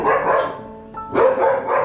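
Rottweilers kept at a home with a pigeon loft in Wayanad bark loudly and close by in two short bursts, with a brief pause between them.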